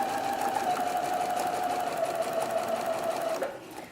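A sewing machine stitches fabric for an infinity scarf in one continuous, steady whirring run that stops abruptly near the end, close and fairly quiet with no talk.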